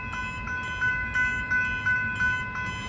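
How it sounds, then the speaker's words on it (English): Steady level-crossing warning bell rings in a regular rhythm at Station Street, Aspendale, Victoria, as a train rumbles past nearby, moderately loud, with no talk. "I wonder what train that is over there."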